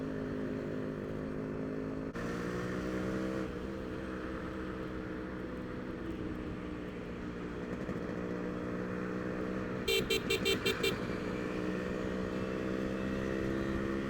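A Yamaha RX100 two-stroke motorcycle rides on a road after an engine rebuild, its engine droning steadily throughout with a gear change or two and a short burst of beeping near the end.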